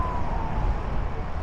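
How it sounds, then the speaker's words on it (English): An ambulance siren sweeps past on a Washington, D.C. street, its wailing tone rising and falling above a loud, steady wash of traffic rumble, with no voices. "What do we got coming down on us? Ambulance, I think."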